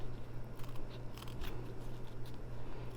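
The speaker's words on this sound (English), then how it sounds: "I'm going to go in with these scissors." Small scissors snip and trim fabric close to machine embroidery stitching on a dog treat holder, giving faint, quick crisp cuts against a quiet background hum.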